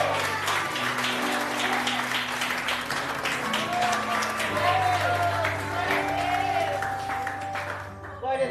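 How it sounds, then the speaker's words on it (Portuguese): A church congregation applauds during a service, steady clapping from a crowd at moderate level with cheering and sustained music or voices underneath. "Aplauda o Senhor Jesus."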